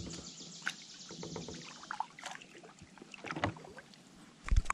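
Paddle strokes dip and splash through water beside a small boat on a morning fishing trip, with soft irregular drips and swishes over faint wind and birds, ending in a closer knock against the hull.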